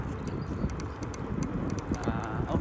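Steady clip-clop of horse hooves on a hard surface in a Catania street, a quick repeating rhythm amid busy street noise, fairly close.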